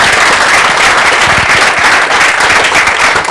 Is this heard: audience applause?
yes